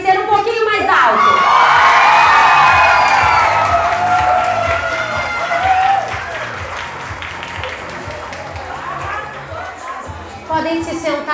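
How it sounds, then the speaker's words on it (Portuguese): Loud crowd applause at a fifteenth birthday ceremony, with cheering and whoops over steady clapping that swells early, then thins slightly as people keep talking in the background. "Esses aplausos podem ser um pouquinho mais altos."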